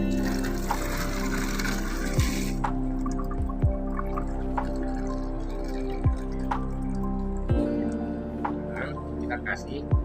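Tap water is poured into a homemade device built from recycled waste, a continuous trickling pour with occasional drips. People talk over the water throughout.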